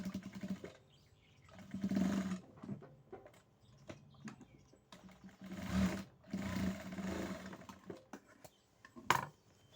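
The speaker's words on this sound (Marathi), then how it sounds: "हळूहळू शिलाई घेऊन कडीची शिलाई पूर्ण करून द्यायची" A sewing machine stitches a half-inch edge seam on a dress, running in several short bursts of motor whir separated by pauses, moderately close with no one talking.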